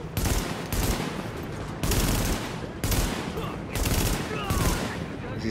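Gunfire rattles in The Division beta video game, repeated dense bursts of automatic shots arriving in clustered volleys, loud and close, with a voice talking underneath.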